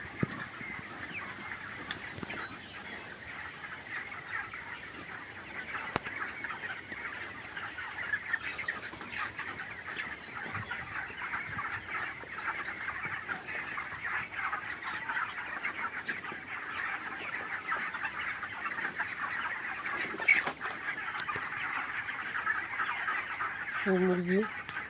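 Broiler chickens in a poultry shed cluck and chatter steadily while feeding from paper, a continuous flock murmur with occasional louder squawks and no talk.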